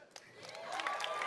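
Audience applause at the Bethesda E3 2018 presentation, a brief burst of clapping that swells and holds steady, loud and close.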